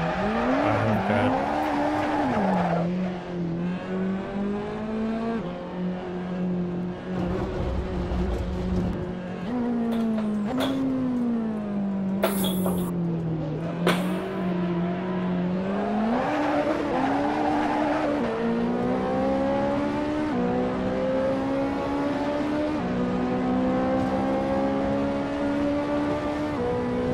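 A McLaren race car on a test run pulls away and accelerates hard, engine pitch climbing and dropping through gear changes, with tires squealing briefly; the loud onboard engine drone continues throughout with no talk.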